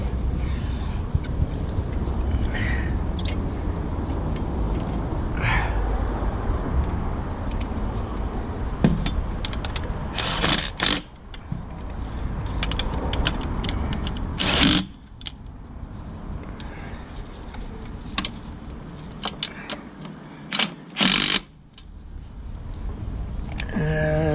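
Metal tools click and clink while bolts are tightened on the EGR valve of a DAF LF truck, with faint ratcheting and sharp bursts of contact noise spread across a long stretch of quiet workshop ambience.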